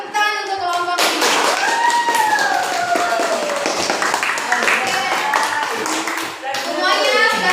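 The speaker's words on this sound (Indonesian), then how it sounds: "silakan tepuk tangan untuk kelompok ini" A classroom of pupils claps for a group that has just presented, the steady applause running for several seconds with children's voices and chatter mixed through it.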